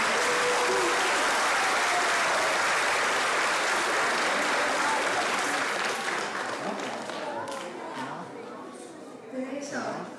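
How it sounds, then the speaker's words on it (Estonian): Applause from an audience at a school playback show in Estonia, sustained dense clapping that fills the room loudly, then gradually thins and fades toward the end. "Teeme veel ühe aplausi esimesele klassile palun."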